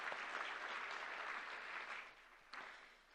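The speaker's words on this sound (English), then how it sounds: "A big round of applause," Conference audience applauding at the opening of the ASEAN Conference on Combating Plastic Pollution 2025 in Kuala Lumpur, a dense steady patter of many hands that fades toward the end, then a brief swell.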